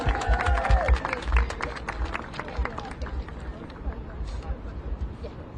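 Applause and crowd noise at a Chicago officials' press conference, a dense patter of clapping with babble and movement, loudest at the start and then tapering off.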